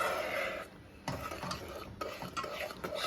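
Peanut butter fudge mixture being stirred in a pan on the stove, a steady scraping and swishing of the spoon close up with a couple of sharper knocks against the pan, no talking.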